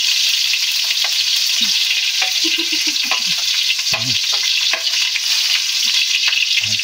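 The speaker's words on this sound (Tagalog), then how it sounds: "okay na nga yung ating mantika, mainit na. At ilalagay ko na itong ating sibuyas. Oh, bawang pala, sorry." Garlic sizzles steadily in hot cooking oil for a Filipino sautéed dish, a loud, constant frying hiss with occasional light stirring clinks and scrapes close by.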